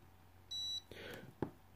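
A single electronic beep from an ultrasonic alarm clock diffuser as its alarm button is pressed, a short steady tone followed by a soft click and light handling noise, close and fairly quiet.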